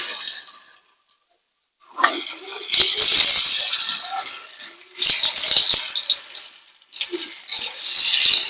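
Salted fish dropped into hot oil in a wok, with loud, bright sizzling bursts that surge, ease off and flare up again, close and without talk.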